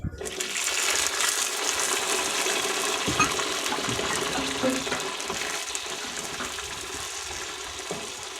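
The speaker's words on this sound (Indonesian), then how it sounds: "Habis itu kita menggoreng cabenya." Chili peppers frying in a pan for pecel lele sambal, a steady close sizzle and crackle of hot oil running throughout without pause, with no talk over it.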